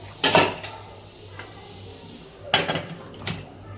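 A metal lid clanks onto a cooking pot in a home kitchen, two or three sharp close clatters with a brief rattle, separated by quiet hiss.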